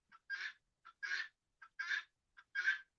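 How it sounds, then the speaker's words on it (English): Guinea hen calling outdoors: four evenly spaced two-part calls, each a short note followed by a longer harsh cry, fairly near and alone without talk. "What's up, guinea hen?"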